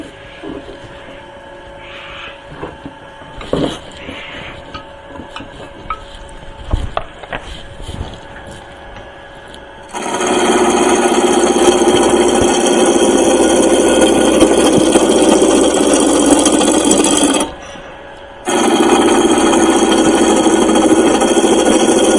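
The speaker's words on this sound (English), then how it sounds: "I'm just going to speed the lathe up a little bit to about 1200." A wood turning lathe hums quietly with a few knocks, then a tool bites into a spinning wooden cylinder. A loud, steady, close-up cutting roar follows, breaks off for a moment, then resumes.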